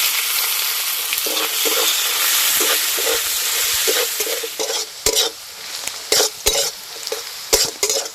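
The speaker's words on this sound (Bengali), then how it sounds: "এবার দিয়ে দেবো পেঁয়াজ কুচি" Chopped onion frying in hot oil with black cumin and green chillies, a bright continuous sizzle up close, punctuated by repeated scraping stirs of a spatula against the pan that grow more distinct toward the end.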